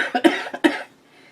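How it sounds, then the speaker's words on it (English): A person with plugged-up sinuses coughs in a quick burst of three or four harsh, close coughs, then goes quiet. "I think that's just a cough from the sinuses being plugged up"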